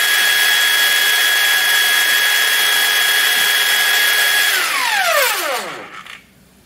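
Cordless Ronix 8902K circular saw spinning at a loud, steady high-pitched whine for several seconds, then winding down as the blade coasts to a stop.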